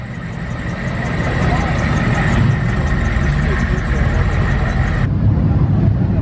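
Car engines idle and rumble steadily at an outdoor cars and coffee meet, a continuous loud low drone with a faint high whine that cuts out partway through.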